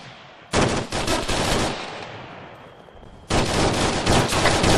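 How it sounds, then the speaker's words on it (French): Gunfire rings out in a video game gunfight: two long, loud, close bursts of rapid automatic fire, separated by a brief quieter lull, with no voices. "Oh, c'est quoi qui tire là?"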